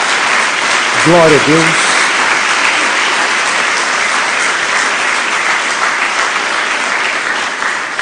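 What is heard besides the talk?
congregation applauding in church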